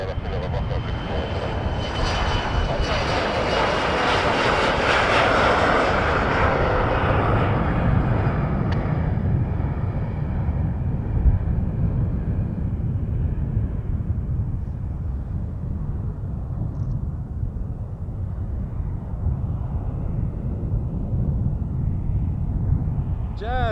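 Jazz Embraer 175 jet engines at Montréal-Trudeau airport, a loud sustained roar with a rising then fading whine, heard from nearby and gradually receding, with voices talking over it.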